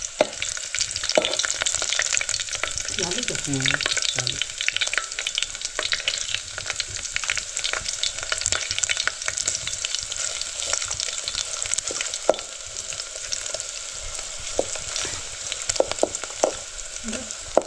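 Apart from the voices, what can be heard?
chicken and spices frying in tempering oil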